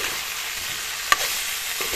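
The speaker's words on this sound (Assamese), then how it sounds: "এতিয়া কবি আৰু আলুখিনি মই এনেদৰে কেইমিনিটমান সময় ভাজিলোঁ।" Cabbage and potatoes fry in a pan with a constant, even sizzle throughout, broken once by a brief sharp clink of a utensil. The sound is close, with no talk.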